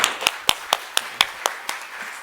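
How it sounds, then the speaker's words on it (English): Steady, evenly spaced hand claps, about eight sharp claps at a brisk rhythm, close by with no voices. "So give her an applause"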